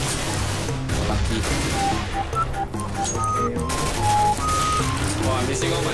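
Continuous video game gunfire rattles through the clip, rapid and loud, layered over tonal in-game sound effects, with no clear talk over the shots.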